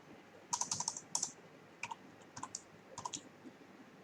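Keys of a computer keyboard being typed while entering Python code: a quick flurry of close, crisp clicks, a pause, then scattered single and paired keystrokes, fairly faint over a quiet room hiss.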